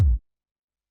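A single punchy 909-style techno kick drum hit, a loud, short low thump that dies away within a fifth of a second, followed by silence.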